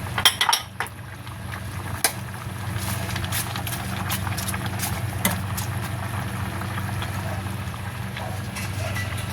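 A spoon stirs a pot of okra, fish, chili and onion simmering in coconut milk, producing sporadic light scrapes and clinks against the pot over a steady low bubbling hum, fairly close.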